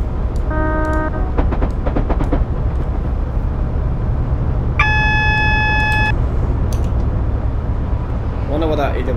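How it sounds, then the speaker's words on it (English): An AWS warning signal in the Train Simulator 2017 cab, on a freight run from St Phillips Marsh to Severn Tunnel Junction, sounds as a short tonal alert over the steady rumble of the moving train, among other brief beeps and a voice. "Wonder what that AWS is for."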